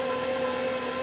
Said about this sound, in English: I mean, it's kneading it. It's just not kneading it well.